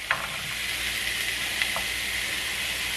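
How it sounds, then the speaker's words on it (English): Beef and onion sizzle steadily in a frying pan, a loud continuous hiss with faint stirring clicks and a sharp knock at the end. "first off we are going to get our beef and plonk that in. Frank. And we're going to add our onion"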